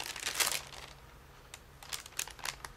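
Release paper laid over a small fabric flower quilt gives brief crinkling and rustling bursts, close and fairly quiet, with short pauses between handling sounds.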